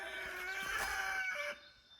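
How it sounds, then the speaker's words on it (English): A young rooster crows in a garden, one drawn-out call with strong harmonic tones lasting about a second and a half, fairly close and clear before it tapers off into quiet outdoor background. "Our young rooster. It started crowing like a week ago."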